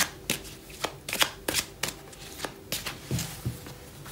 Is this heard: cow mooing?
no